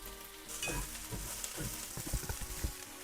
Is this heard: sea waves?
no